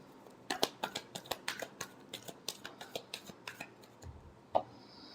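Tarot cards being shuffled by hand, a string of about twenty crisp close riffling snaps in an uneven rhythm, with a faint low thump near the end and no talking.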